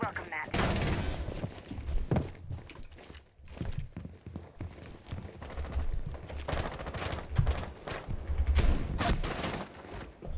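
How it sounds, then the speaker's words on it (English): Bursts of gunfire in the video game Rainbow Six Siege, rapid automatic shots fired in repeated volleys under excited talk from players. "They're firing at us."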